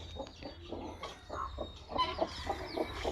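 A large hen with her chicks, thin and blind in one eye, clucks in short repeated bursts close by on a farm, with faint chick peeps and background noise.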